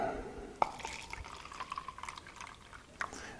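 Gatorade being poured into a container during a water-testing demo gives a few faint drips and small splashes, with one sharper drop near the start and another late.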